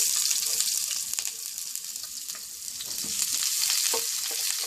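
Onion sautéing in a pan for Filipino pancit bihon, a steady close sizzle and crackle of frying with faint stirring scrapes throughout, no voices.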